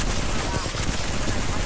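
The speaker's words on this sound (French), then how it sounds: "Il y a une silencieuse qui me tire dessus" Suppressed gunfire in the video game Apex Legends rattles in a dense, continuous stream of muffled shots that fills the whole moment at steady loudness.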